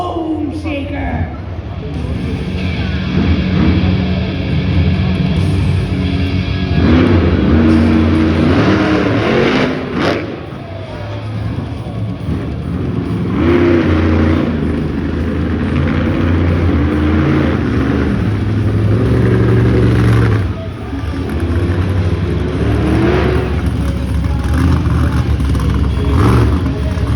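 Hot Wheels monster truck Bone Shaker revs loudly at an arena show, a steady engine roar with rising surges, under an announcer's amplified commentary and crowd noise.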